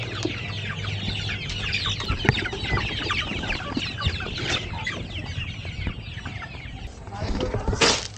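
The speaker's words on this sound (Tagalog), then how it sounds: "Ito ang aking mga manok." Many chickens clucking and chattering together in a busy, continuous flock, with a steady low hum underneath and a louder squawk near the end.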